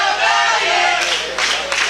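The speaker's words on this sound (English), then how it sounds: "Crowd chanting, "Let's go Valiant."" Wrestling crowd at a live independent pro wrestling event chanting in support of a wrestler, a loud dense wash of many voices in rhythm, close and continuous.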